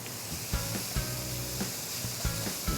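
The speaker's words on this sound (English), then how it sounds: "I'm just going to throw a little butter in there right now." Butter sizzling in a hot pan where steaks for cheeseburger sushi are cooking: a steady, bright hiss throughout, punctuated by soft, regular thuds.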